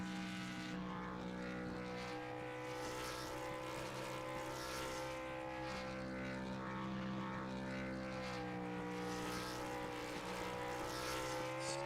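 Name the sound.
race car engine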